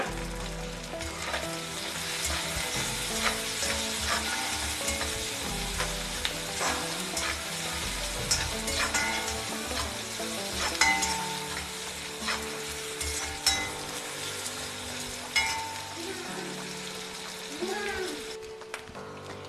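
Suvarotti simmers and fries in oil with salt, a dense continuous sizzle with frequent stirring clatter and scraping throughout, close by, with voices talking over it at times.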